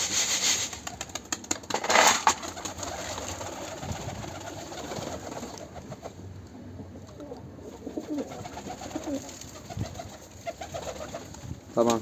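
Pigeons cooing softly and steadily while being fed by hand, with a few close rustles, taps and scattered grain sounds among the calls.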